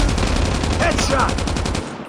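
A loud, fast machine gun burst in the mobile game Call of Duty: Mobile, evenly spaced rapid shots that stop near the end, with a brief in-game voice over the firing.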